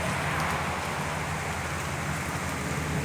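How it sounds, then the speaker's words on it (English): Light rain falls outdoors during an approaching storm, a continuous broadband patter and hiss with no distinct drops standing out, steady and fairly loud throughout. "But the rain is here. It's a little bit of rain."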